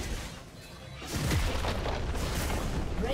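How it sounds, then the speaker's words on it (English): Booming turret destruction blast in League of Legends, a broad rumbling burst that swells at about one second and holds loud and dense through the rest, with no talk. "Red team's turret has been destroyed."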